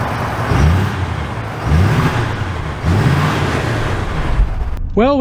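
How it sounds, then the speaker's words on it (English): A 2023 Ford F-350 Tremor pickup pulls away, its engine note rising in three repeated surges of acceleration as it shifts, heard from close inside with steady road rumble, ending with a brief tonal chime. "we are setting off in the F-350 Tremor"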